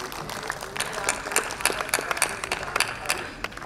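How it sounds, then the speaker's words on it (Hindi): An audience at a Hindi spiritual talk breaks into brisk applause, a crackling patter of many claps lasting a few seconds, fairly loud, with some scattered voices mixed in. "इनके लिए एक बार जोरदार तालियां बजा दीजिए।"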